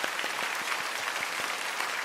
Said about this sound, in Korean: 우리 한번 수고하시는 분 박수로 격려해 주시면 감사하겠습니다.